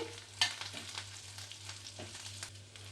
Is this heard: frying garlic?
yes